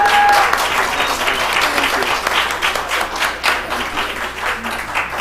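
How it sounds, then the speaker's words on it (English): An audience applauds to welcome panelists at a trans rights dialogue event, a dense, loud burst of clapping that slowly thins over several seconds. "let's give a warm welcome round of applause for my panelists today"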